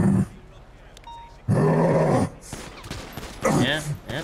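Gunfire in GTA 5 NoPixel roleplay: a loud burst of shots erupts midway, followed by another cluster near the end, with people talking in between.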